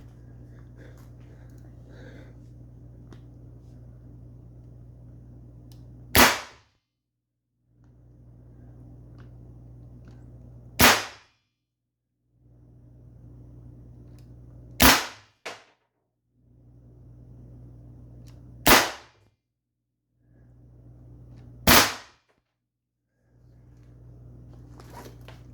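Five sharp, very loud reports from an Umarex T4E HDR 50 air pistol fired into one-inch plywood, spaced a few seconds apart over a low steady background hum.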